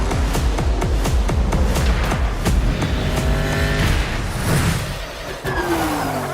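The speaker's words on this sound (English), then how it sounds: "again we just get more shots of this car chase" A car chase from The Batman trailer roars past with loud, revving engines, whooshing passes and tire noise, dense and continuous, with engine pitch rising and falling over several seconds.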